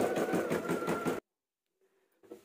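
A sewing machine stitches the edge of blouse lining fabric in a quick, steady whirring burst that stops abruptly, followed by silence and a faint start of motor hum.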